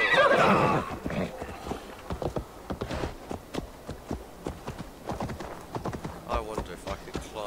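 A horse gallops with steady clip-clop hoofbeats and lets out a whinny in Assassin's Creed Valhalla, the game audio running under a player's voice.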